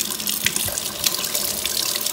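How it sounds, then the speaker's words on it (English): Water runs steadily from a kitchen tap as a Fixate gel pad is rinsed under it, making a close, continuous splashing hiss with small spattering bursts. "So let's rinse it off."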